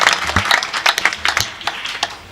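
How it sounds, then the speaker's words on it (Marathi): Scattered claps from a gathering at a Hanuman temple during a devotional harinam week event, sharp irregular hits close by over about two seconds, with no speech. "टाळी वाजवा एकदा तुमच्यासाठी."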